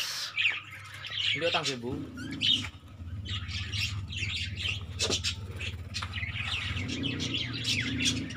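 Parakeets in a breeding cage with nest boxes chirp and squawk almost continuously, bright and close, while someone talks over them.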